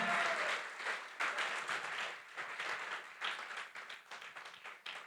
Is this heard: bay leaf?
no